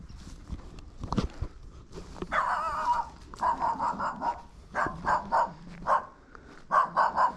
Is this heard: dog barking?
yes